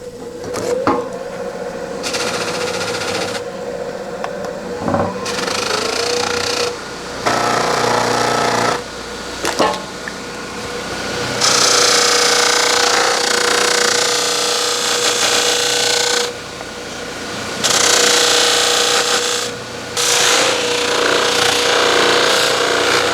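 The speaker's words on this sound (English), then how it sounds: "I think I'll take this to the buffer just a little bit just to tune it up" Bench buffer polishing the head of a ball peen hammer, a loud close grinding whir that comes in repeated bursts of several seconds with short pauses between passes.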